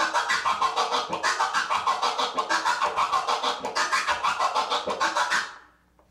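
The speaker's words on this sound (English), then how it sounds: "where the transformer sounds like this" A turntable transformer scratch gives a rapid, evenly pulsing stutter of chopped scratch sound at a fast rhythm, loud and alone, before stopping abruptly near the end.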